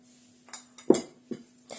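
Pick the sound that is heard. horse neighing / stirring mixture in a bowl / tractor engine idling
stirring mixture in a bowl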